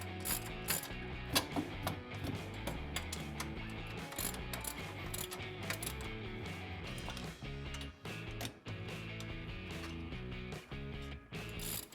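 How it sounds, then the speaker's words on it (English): A ratchet taking out ball joint mounting bolts on a Polaris UTV, with rapid continuous clicking over a steady drone of machinery, close and sustained, with short pauses between runs. "Remove the two mounting bolts."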